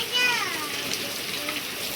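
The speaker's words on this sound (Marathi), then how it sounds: "जवळजवळ पंधरा वीस मिनटं झाले असंच पाऊस चालू आहे" Steady rain that has been falling for fifteen to twenty minutes outdoors, a continuous soft hiss of drops on surfaces with faint voices in the background.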